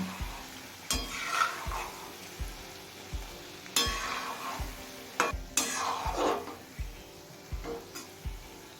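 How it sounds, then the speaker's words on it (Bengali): Mango-leather fritters sizzle in hot oil while a utensil scrapes and turns them, with regular soft knocks and scrapes repeating over a steady fry, close and fairly quiet, no voices. "এবার উল্টো পাল্টে লাল করে ভেজে নেব"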